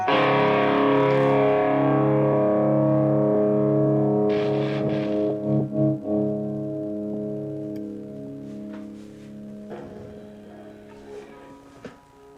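An electric guitar rings out through an amp with Boss SD-1 and CH-1 pedals, a distorted, chorused tone, a long sustained chord fading slowly while a few sharper strums break in.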